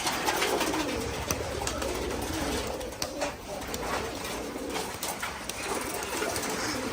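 A loft of domestic pigeons coo in soft, repeated low calls close by, layered over a constant background hum, with rustling and faint scattered chirps throughout.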